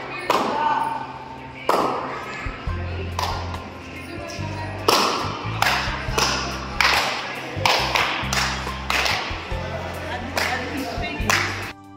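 Hand claps ring out at the gate of a historic fort, a series of sharp, loud slaps with a hollow echo trailing each one, spaced irregularly, while people talk nearby.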